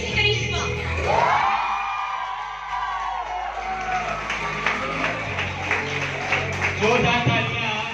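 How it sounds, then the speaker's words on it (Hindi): A college farewell crowd whoops and cheers for Miss Farewell, loud yells rising over clapping and lively chatter, with a voice speaking through the noise and the cheering swelling again near the end. "जोरदार तालियां हमारी मिस फेयरवेल के लिए"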